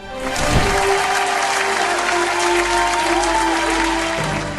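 Loud, full applause for a gospel singer after her performance on a televised singing competition, a dense crowd clapping swell under sustained music tones that fades slightly at the end.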